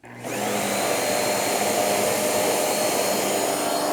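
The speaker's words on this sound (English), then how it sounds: "You can see how much suction it has and how effective it is at picking up all this dust and dirt." Vacuum cleaner cleaning a bed for dust and dirt, switching on abruptly and then holding a loud, steady high whine and rushing suction roar, close and continuous.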